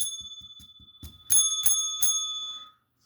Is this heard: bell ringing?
yes